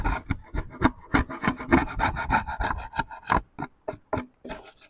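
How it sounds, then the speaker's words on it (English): Excess glue is scraped and picked off a thrifted wooden item at close range, a rapid series of dry rasping scrapes in an uneven rhythm, with no talking. "If I can pick any of the excess glue off here."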